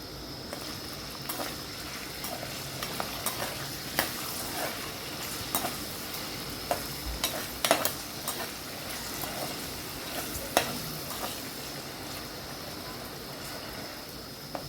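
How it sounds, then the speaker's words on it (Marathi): Potatoes seasoned with salt and turmeric sizzle steadily in a pan while being stirred, a constant frying hiss broken by occasional scraping and knocks of the spoon against the pan. "बघा आता आपले आलू छान असे फ्राय झालेले आहे।"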